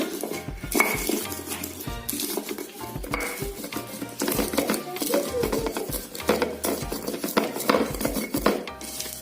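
Peanuts ground with a stone mortar and pestle (ulek) for lotek, repeated scraping, knocking and grinding strokes close by in an uneven rhythm, with a few faint voices and kitchen clinks.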